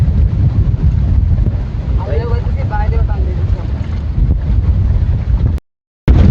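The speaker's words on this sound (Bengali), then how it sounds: "প্রচুর বাতাস, তো প্রচুর বাতাস।" Strong wind gusts over choppy water in the Sundarbans while hook fishing from a boat, a loud, constant low rumble of buffeting against the microphone with a voice faintly underneath and a brief dropout near the end.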